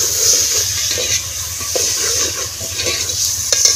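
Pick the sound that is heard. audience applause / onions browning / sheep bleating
onions browning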